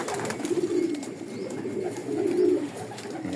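Pigeons coo steadily through the stretch in a loft where birds are kept for their eggs, overlapping low rolling calls rising and falling in two clear swells, close and moderately loud with no talk.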